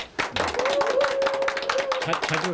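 An audience claps during a year-end interview event with a city mayor, a quick burst of scattered clapping that swells and continues under a sustained tone and some background voices.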